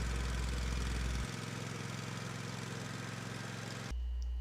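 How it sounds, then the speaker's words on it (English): A tractor engine idles steadily at close range, its low drone dipping in pitch midway and then returning to the fuller note, with no talk over it. "start the tractor engine, and set the throttle"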